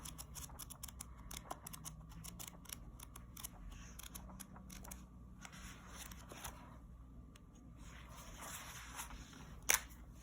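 Pages of a black-and-white Keishobou Tarot companion book handled and opened, soft paper rustles and faint page flicks with an occasional sharper tap, quiet and close throughout.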